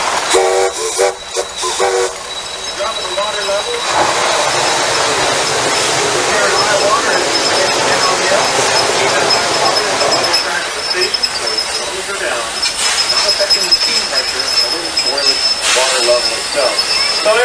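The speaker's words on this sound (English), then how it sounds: "The Shea has a steam engine mounted as a three-cylinder vertically mounted engine just ahead of the cab" A Shay geared steam locomotive with a three-cylinder vertical engine mounted just ahead of the cab runs steadily, giving a continuous broad rumbling hiss with faint whistle-like tones, and people can be heard talking throughout.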